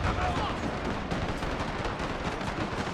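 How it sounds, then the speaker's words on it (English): Dense, continuous gunfire from rifles and machine guns defending a British fort in an Anglo-Zulu War battle in Total War, a loud, unbroken rattle of overlapping shots throughout. "Like most of the guns are firing."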